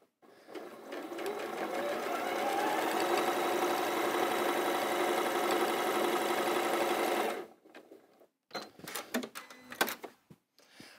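A sewing machine stitches quilt block seams in a steady, rapid mechanical run lasting about seven seconds, then stops, followed by scattered clicks and handling knocks.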